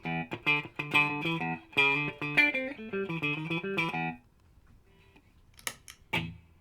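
Guitar played through a Siggi Braun Dragon Fire boutique amp on an out-of-phase setting: several seconds of plucked notes and chords with a thin, hollow tone, then near silence and a few sharp clicks.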